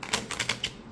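Several quick papery riffles and flicks of tarot cards being shuffled, close up and fairly soft, with no talking.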